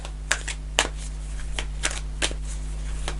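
Tarot cards being shuffled and drawn up close, a handful of crisp riffling snaps and soft slides over a low steady hum, spaced unevenly with no speech.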